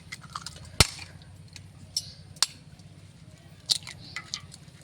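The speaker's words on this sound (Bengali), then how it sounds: "এক এক করে সব ডিমগুলো ভাঙবো" Eggs are cracked one by one into a bowl in a home kitchen, giving four or five sharp, crisp taps spaced a second or so apart, close and distinct over a quiet background.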